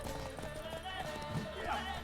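Horse hooves gallop in The Witcher 3 game, a steady clip-clop rhythm inside a dense mix of game sound, with a voice talking over it.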